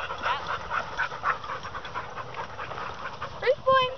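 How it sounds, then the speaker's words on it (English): A big dog pants rapidly and steadily at a dog park, close by, with a brief whine near the end and people talking quietly in the background. "The big dog came."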